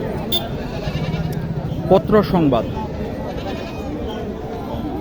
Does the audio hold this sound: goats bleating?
yes